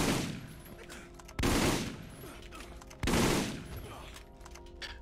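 Two loud pistol shots ring out in Borderlands 3 (Mayhem 4), about a second and a half apart, each a sharp blast with a long rumbling tail over a steady game background.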